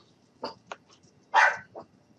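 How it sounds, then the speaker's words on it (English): A few sharp dog barks, one louder and fuller than the others, scattered over a quiet room background. "I am so sorry about my dogs barking"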